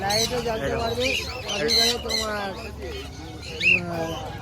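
Caged birds squawk at the Sunday bird market in Serampore. Harsh calls and chirps overlap one another, with a sharp squawk near the end, and someone talks throughout.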